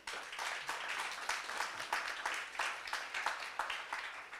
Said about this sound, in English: Everybody, a huge round of applause.